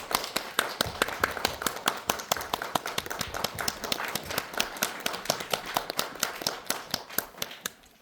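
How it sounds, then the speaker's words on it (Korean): Audience at a film festival screening Q&A in a Seoul cinema claps to welcome a director and an actor, a steady run of sharp, evenly spaced hand claps that stays close and lively throughout. "큰 박수로 두 분을 환영해 주시기 바랍니다"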